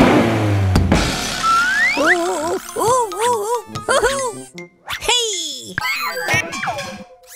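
A cartoon baby truck's engine revs loudly in a garage, rendered as a rising and falling voiced vroom, a voice imitating the engine in several bursts, with springy cartoon effects mixed in.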